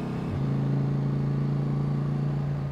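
A motorcycle climbing the Col du Galibier accelerates to overtake a car, its engine a steady, close mid-pitched drone that rises slightly and holds loud without a break.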